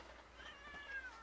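A cat gives a faint, thin meow that drifts slightly in pitch, heard through quiet background noise with no talking.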